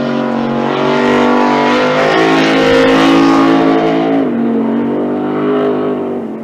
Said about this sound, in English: you can hear that healthy engine in that bad boy